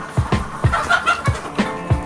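Chickens and roosters on a farm clucking in short, rhythmic bursts, close and fairly loud, with a steady series of low clucks repeating about every quarter second.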